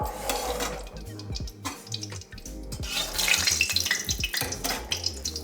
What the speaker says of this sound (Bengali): প্রথমে আমি এর মধ্যে সর্ষে দিয়ে দিলাম জিরে দিয়ে দিলাম